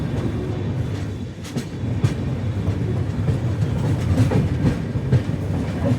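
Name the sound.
Capital Express train pulling into Thakurganj station platform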